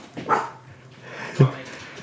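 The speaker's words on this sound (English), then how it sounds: "Yes, we have a dog here at Misconceptions." A small dog barks twice, a sharp yip followed by a louder bark about a second later, close by in a quiet room during a tabletop role-playing podcast recording.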